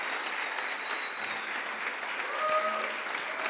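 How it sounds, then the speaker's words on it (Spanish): A church congregation applauds during a worship service, producing a dense, sustained wash of many hands clapping at a steady level, with faint voices mixed in beneath. "Dale el mejor aplauso, por favor."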